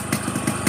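Close, steady idle of a 30-year-old blue Yamaha RX King two-stroke motorcycle, a rapid rattly putter with a raspy upper buzz.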